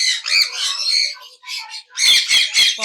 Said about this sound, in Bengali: আজকে সুপার কোয়ালিটির ব্লু রিং নেক টিয়ে পাখি